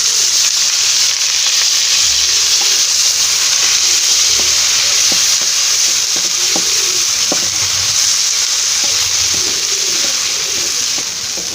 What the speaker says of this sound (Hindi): घी गर्म हो गया है। अब इसमें हम 1 अदद प्याज डालेंगे।